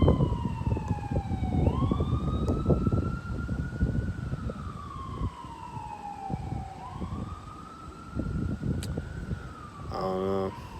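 An ambulance siren wails, sweeping slowly up and down in long cycles, loud and fairly close, over a steady rumble of traffic.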